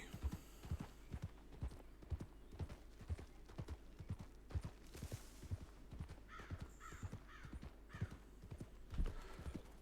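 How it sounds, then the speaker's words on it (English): A horse's hooves clip-clop at a steady walking rhythm on the ground in the Red Dead Redemption 2 video game, close and clear, with a few crow caws in the background. "I gotta watch out for this horse a little bit, because it's not really the most sturdy of horses when you steal them."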